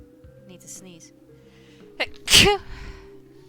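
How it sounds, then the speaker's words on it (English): A single sharp sneeze bursts out near the middle, preceded by a quick inhaled gasp, set against a quiet background with a steady low hum and a few soft sounds beforehand. "Need to sneeze."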